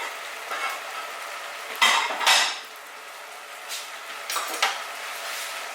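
Chicken adobo sauce simmers and reduces in a pan with a soft sizzle, broken by a few clinks and scrapes of a utensil against the cookware, close by and with no talking.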